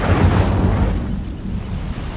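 A burst of flame from the Incendio spell catches dry vines in Hogwarts Legacy, a low whooshing rumble that swells at first, then settles into a steady crackling burn.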